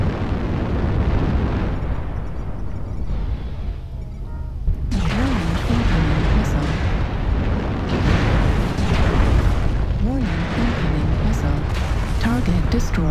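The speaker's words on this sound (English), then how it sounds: "Airstrike." Heavy airstrike explosions boom and rumble continuously in a mech combat video game, deep blasts layered with crackling bursts and pops, loud and close, with game voices speaking over the barrage.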